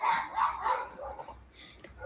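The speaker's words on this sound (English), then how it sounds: "Whose dog's barking?" Neighbours' dogs barking a few houses down the street, several sharp barks in quick succession, moderately loud in the first second and then fading to quieter yips.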